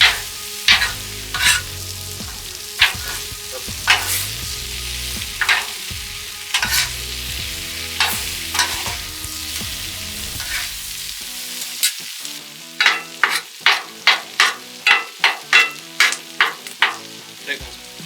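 Vegetables for steak fajitas frying in a cast iron pan, a steady close sizzle broken by repeated scraping stirs of a utensil, which later turn into a quick series of sharp, evenly spaced scrapes as the sizzle drops away.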